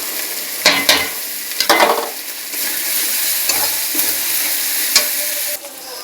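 Cumin, ginger and garlic paste being stirred in a hot pan, a constant sizzle broken by several loud scraping strokes of the spoon, close and without talk.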